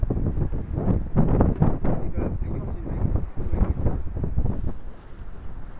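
A sailboat under sail in a good breeze between Falmouth and Fowey, making just over 6 knots, with steady broadband wind buffeting the microphone and water rushing along the hull, continuous and fairly loud throughout.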